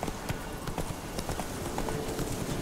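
Steady rhythmic hoofbeats of a horse being ridden in the fantasy video game The Witcher 3, close and continuous with no talk over them.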